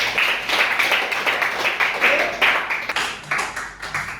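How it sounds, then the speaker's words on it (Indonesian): Students in a classroom clap for a classmate, a steady patter of many hands for about four seconds, moderately loud and close, with some voices mixed in. "Kita tepuk tangan untuk Rere."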